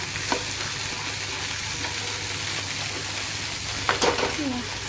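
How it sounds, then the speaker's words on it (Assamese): Spices sputtering in hot oil at the start of a home-cooked Assamese lunch, a steady broadband sizzle with a few sharper pops and crackles, close and moderately loud, with faint voice-like tones underneath. "তেলতে মছলাটো ফুটিলে"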